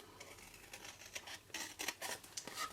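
Scissors cutting through paper along a template for a 2-inch (5 cm) cube box, giving a run of soft, close snips and crinkles with no talking.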